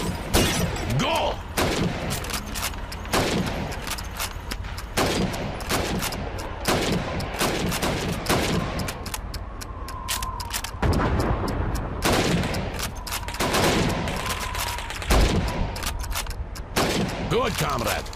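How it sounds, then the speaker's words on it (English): Rifle gunfire at helmet targets during Call of Duty training: rapid repeated sharp shots crack close and loud in quick succession, with speech occasionally underneath. "You have 15 seconds to shoot the helmets."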